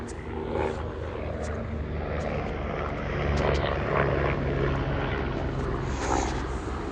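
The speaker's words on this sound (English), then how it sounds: "you could hear the helicopter. So as soon as I started to record, this helicopter flying over." Helicopter passing overhead, a steady rumbling drone with a faint rhythmic beat that swells slightly midway, heard at a distance and continuing throughout.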